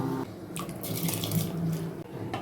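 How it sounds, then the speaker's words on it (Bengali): Liquid pours and splashes steadily into a pot as rose water and kewra water are added for Kolkata-style chicken biryani, a close, continuous trickle with faint clinks and no voices. "কেওড়ার জল দিলাম গোলাপ জল দিচ্ছি"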